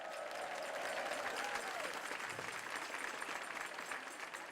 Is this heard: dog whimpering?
no